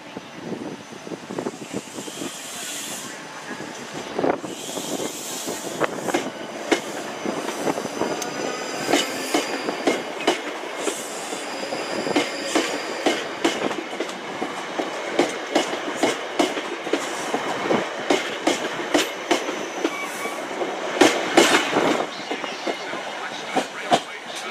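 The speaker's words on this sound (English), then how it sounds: "departing now is the final train in this video" A South Western Railway electric passenger train pulls away from the station with a rising hum, its wheels clacking over rail joints in a quickening rhythm.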